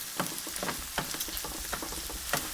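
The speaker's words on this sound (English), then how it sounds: "into this goes 3 onions that I had just roughly sliced, and we're just going to allow this to sweat and get nice, soft and translucent" Roughly sliced onions sweating in a hot pan for paneer makhani, a soft steady sizzle with faint crackles and occasional stirring scrapes, fairly quiet and close.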